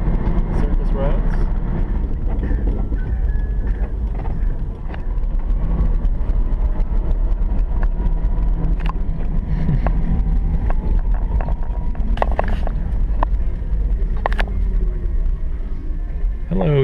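Inside an electric Volkswagen cruising at 45-50 mph on surface roads, steady road and wind noise rumbles beneath a faint electric whine, with a few brief clicks and rattles along the way.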